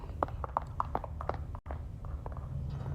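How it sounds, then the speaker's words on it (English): Footsteps of other avatars moving through a Sansar VR world inside the Ready Player One CES experience: light, evenly spaced steps, fairly faint, under a steady low background hum, with no talking. "I can hear you guys' footsteps"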